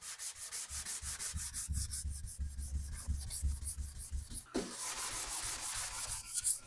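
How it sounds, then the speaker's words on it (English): Steady back-and-forth rubbing of a sanding sponge on wooden trim, rhythmic strokes close up, with a brief pause before the scraping resumes. "I'm going to sand it with this sanding sponge"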